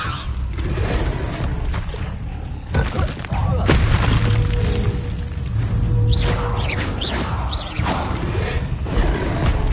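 Spell effects from a Harry Potter video game, Incendio and Levioso: a string of bursts, thuds, whooshes and crackling magical impacts at close range over a busy, continuous game soundscape.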